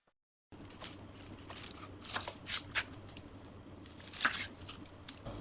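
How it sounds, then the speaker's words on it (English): Knife slicing through a large onion on a cutting board, a run of close, soft crisp cuts and crunches at an uneven pace, a little louder toward the end. "Cut the large onion like this first."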